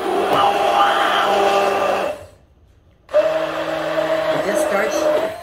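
A 5-in-1 hand blender whips heavy cream with powdered sugar, giving a steady, close, high motor whine in two runs separated by a one-second pause, with a voice talking over it.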